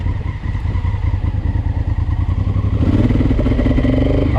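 A Honda CRF1000L Africa Twin motorcycle riding through grass, its engine a loud, steady close-up drone with clattering pulses, swelling slightly louder about three seconds in.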